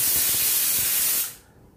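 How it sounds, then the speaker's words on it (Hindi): A pressure cooker on a gas stove releases a loud, steady rush of hissing steam while cooking matar paneer, then cuts off sharply into near silence. "एक सीटी आएगा उसके बाद हम कुकर को बंद कर दिया"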